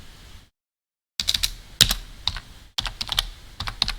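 Python code being typed on a computer keyboard: bursts of quick, close key clicks with a short silent gap near the start and a pause partway through, heard alone.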